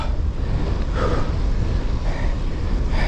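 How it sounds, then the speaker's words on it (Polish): Strong wind blows hard against the microphone outdoors in spring, a loud, steady rushing roar with gusty swells and no voices. "Wiatrzysko"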